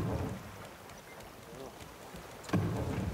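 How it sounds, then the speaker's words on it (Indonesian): A boat engine runs in the survival video game Raft, giving a steady, fairly soft mechanical drone mixed with washy water-like noise throughout, with a slightly louder burst near the end. "Gue nyalakan mesin deh, biarin."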